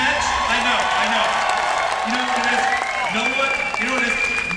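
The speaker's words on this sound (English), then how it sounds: "sometimes it takes a minute to get the rolling applause" Applause ripples through the audience at a WonderCon 2018 convention panel for Fear the Walking Dead Season 4, steady crowd clapping with scattered whoops under voices and room noise throughout.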